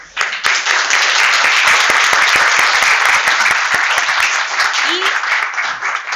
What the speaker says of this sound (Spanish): le vamos a dar entonces un fuerte aplauso, a nuestros expositores